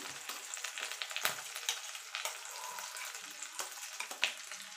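Raw green pea paste with ginger fries in a pan, a soft crackling sizzle broken by frequent spatula scrapes and stirring taps, fairly quiet and close, with no talking.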